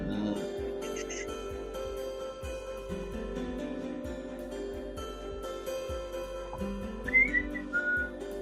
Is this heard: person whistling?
yes